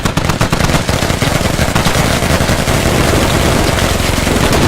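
Dense, continuous gunfire and explosions in a military simulator video game roar loud and close, rapid shots blending into a constant barrage with no talking.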